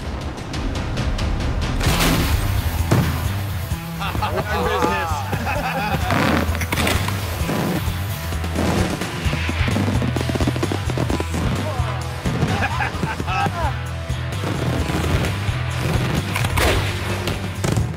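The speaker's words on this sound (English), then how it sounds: "Daytime fireworks are not made for colors. It's a sound experience. The explosions are so loud, you just have all your chests compressed." Daytime fireworks at a competitive family pyrotechnics display go off in a rapid, relentless barrage of loud booms and cracking blasts. The explosions overlap continuously for the full stretch, with voices or other tonal sound mixed faintly underneath.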